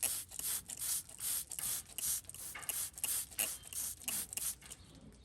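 Rhythmic scraping and rasping as a tool trims jagged, irregularly grown horn from a cow's hoof, repeated close strokes in a steady pulsing pattern with no talk.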